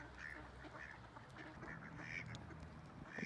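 Ducks quack repeatedly at a distance, a steady scatter of calls over soft outdoor background noise.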